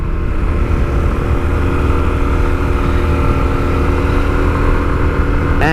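A Honda XR250L dual-sport dirt bike engine hums steadily and loudly under the rider while out exploring, close and continuous with a constant low drone and no talking.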